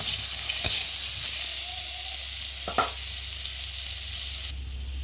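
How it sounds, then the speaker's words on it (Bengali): Potatoes pre-boiled with salt and turmeric sizzle steadily in hot oil in a kadai, a constant loud frying hiss with a few brief stirring clatters. "কড়াইয়ে তেল দিয়ে দিয়েছি, আলুগুলো ভেজে নেব।"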